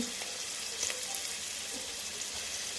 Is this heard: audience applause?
no